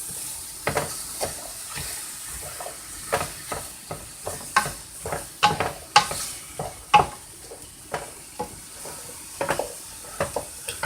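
Beef and vegetables sizzle in a pot for a beef stew, with steady frying hiss and repeated clattering stirs from a utensil scraping the pot at an uneven rhythm, close up and without talk.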